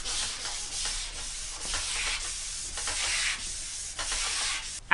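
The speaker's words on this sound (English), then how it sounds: "There's a lot of elbow grease and a lot of sanding." Steady rhythmic scrubbing of sandpaper rubbed back and forth by hand, wet sanding a surfboard, close and continuous with no talking.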